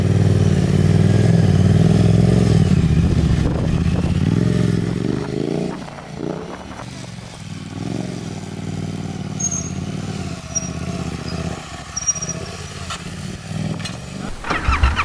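Yamaha R7 motorcycle engine droning loudly and close as the bike circles, then easing off to a lower idle-like rumble with scattered clatter and scrapes, ending with a short rise.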